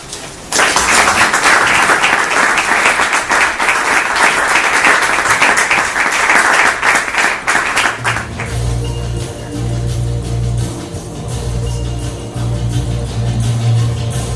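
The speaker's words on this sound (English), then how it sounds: "please give Ambassador Sarrath and his team a big round of applause" At a Sri Lankan ambassador's reception in Washington, DC, the audience gives a loud, dense round of applause lasting about eight seconds, which then gives way to background music with scattered claps fading out.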